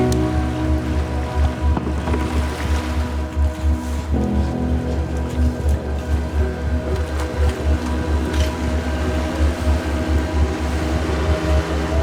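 Long-tail boat engines drone steadily and loudly on the water at Railay beach in Thailand, a throbbing low rumble with splashing surf underneath.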